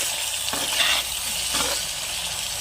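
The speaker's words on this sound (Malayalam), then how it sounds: "ഈ തക്കാളിയുടെ പച്ചമുളകൊക്കെ ഒന്ന് മാറുന്നത് വരെ നമുക്കിതൊന്ന് ഇളക്കി കൊടുക്കാം" Thick tomato and green chilli paste sizzles steadily in a hot pan for a Kerala sardine curry while a spoon scrapes and stirs through it in a couple of sweeps, close and fairly quiet.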